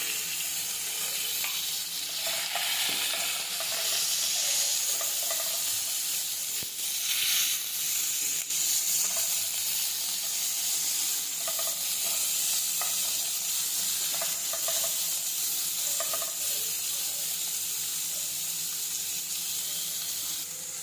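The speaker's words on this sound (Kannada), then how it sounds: "ಇದು ಈರುಳ್ಳಿ ಚೆನ್ನಾಗಿ ಫ್ರೈ ಆಗಲಿ." Onions with mustard seeds frying in a pan, a dense, continuous hiss of sizzling oil held close and loud throughout, with occasional faint stirring clicks.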